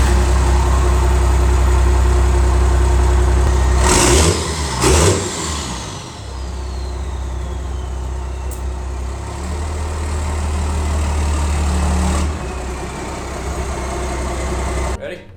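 Single cab diesel pickup truck fitted with semi truck exhaust stacks, rumbling at idle with a couple of sharp revs early on, then settling into a steady deep drone with a slight rise later.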